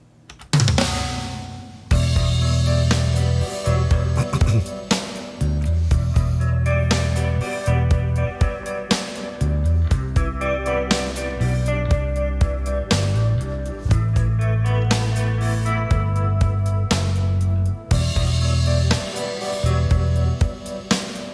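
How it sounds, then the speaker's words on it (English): Clean electric guitar playing a steady rhythmic pattern with bass and percussive accents, loud and continuous after a short quiet start. "this is the sound of the clean guitar"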